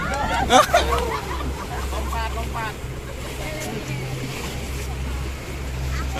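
Sea waves wash and slap around a small boat in the waters off Sabang, Aceh, with a steady low rumble and splashing throughout, and a few voices murmuring in the background.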